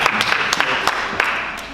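Scattered applause from a philosophy festival audience at a talk on artificial intelligence, a brief patter of claps mixed with crowd murmur and voices, fairly close and moderately loud.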